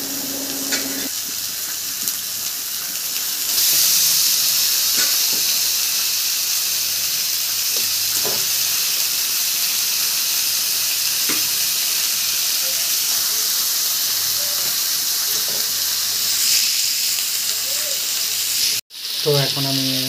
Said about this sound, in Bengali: আমি এখন মাংস দিচ্ছি